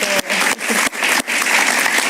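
A studio audience on a Spanish-language talk show claps in loud, dense applause, with several short dips in the sound over about two seconds and no voices over it.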